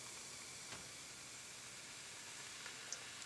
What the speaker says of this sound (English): can you hear how much carbonation there is in that? Fizzing away like a can of Coca-Cola.